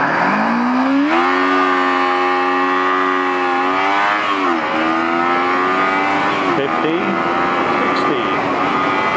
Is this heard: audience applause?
no